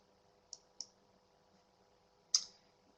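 Computer mouse clicks sound three times, two quick crisp clicks close together followed by a louder one after a pause, against a quiet background hum.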